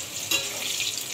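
Sliced pointed gourd frying in hot oil gives off a brief, steady close-up sizzle with a small crackling burst near the start, and no voices.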